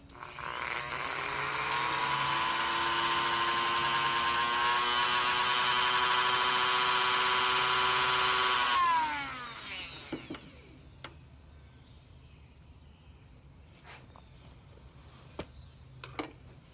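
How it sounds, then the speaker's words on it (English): Dremel rotary tool with a high-speed cutoff wheel cutting: a shrill, buzzing whine holds steady for about nine seconds, then winds down, followed by scattered small clicks and taps in a quiet room. "Going to use the Dremel here with a high-speed cutoff wheel."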